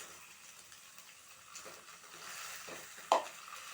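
Vegetables, onion and salt being stirred together in a bowl, a soft scraping and rustling mix with gentle, uneven strokes, fairly faint, and one sharper knock near the end.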